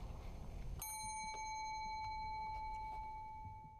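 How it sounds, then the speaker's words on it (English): A single bright ding from a bell rings out sharply and then sustains, its metallic tone slowly decaying over a few seconds in a quiet room. "I'm gonna sit here and ring this bell until you come back over here"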